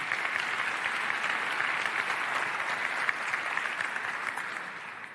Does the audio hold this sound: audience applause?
yes